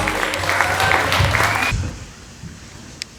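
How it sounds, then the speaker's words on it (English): Audience applause for a poet at Da Poetry Lounge, a dense burst of clapping with crowd noise that cuts off sharply partway through and leaves a quiet room. "Give him a round of applause."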